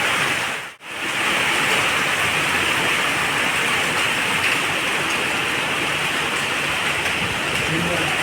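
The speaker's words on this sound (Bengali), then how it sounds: "বৃষ্টি পড়ছে প্রচুর পরিমাণে বৃষ্টি হচ্ছে" Heavy rain pours down at an outdoor water park in Durgapur as a dense, continuous roar of water, broken only by a brief dip near the start.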